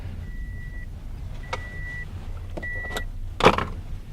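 A pickup truck chimes with repeated warning beeps, then its door clicks and thumps as it is opened to show the back seat, the latch sound fairly close and short.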